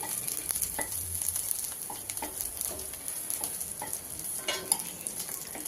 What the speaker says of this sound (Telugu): పచ్చిమిర్చి కూడా తెల్లగా అయ్యేంత వరకు వేయించుకుని